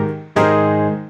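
A Yamaha keyboard voice with the chorus effect switched off plays one bright, sustained note or chord. It starts sharply after a short quiet lead-in and rings steadily, close and fairly loud, with no talking.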